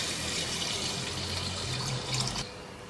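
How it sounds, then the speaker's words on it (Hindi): Water pouring into a cooking pot of spiced mutton trotters, a steady gushing splash that stops abruptly near the end; no talk. "अब इसमें शामिल करेंगे 7 से 8 कप पानी के।"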